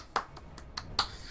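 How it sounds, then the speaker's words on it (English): A few soft, quick snaps or light claps, spaced unevenly and close by, in an otherwise quiet room. "Hear the soft clap"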